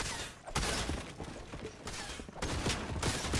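Rapid gunfire in the Fortnite video game, a continuous busy stream of shots and bursts crackling loudly with no speech over it.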